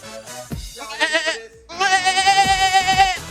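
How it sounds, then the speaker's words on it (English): A soundboard goat scream plays as a couple of loud, wavering, nasal bleats, the second one longer and quivering, close and unaccompanied by talk. "Taco wanted the goat scream while this was happening, so there's your goat scream."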